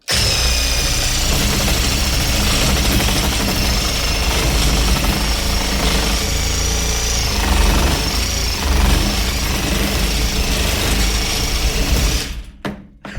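An AL-KO HS 2015 18 V cordless reciprocating saw cuts through a raw log, a loud, steady buzzing, rattling drone with vibration that runs continuously and stops abruptly near the end.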